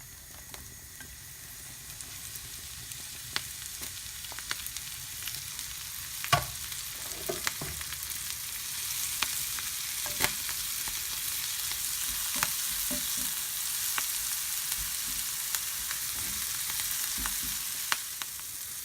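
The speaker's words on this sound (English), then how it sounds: "about a tablespoon of organic salted butter to my pan, and I will use that with my cabbage" Cabbage fries in a pan of organic salted butter with a steady, crackling sizzle up close, broken by occasional pops and a few light utensil taps, with no talking.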